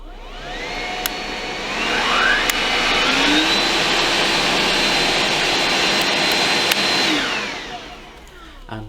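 A Bosch BCH65MGKGB cordless vacuum cleaner runs with a steady, loud motor whine and whirring roller, rising in pitch as it is switched to a higher power setting, then winding down at the end.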